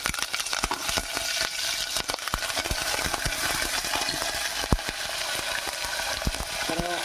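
Curry leaves tossed into hot oil while making Varalakshmi Vratam prasadam, crackling and spitting in rapid, uneven pops over a constant close frying hiss, with stirring clinks throughout.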